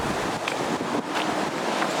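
Heavy pouring rain beats down steadily outdoors, a dense broadband wash of hiss with gusty wind-like swells, loud and continuous for the whole stretch with no voices.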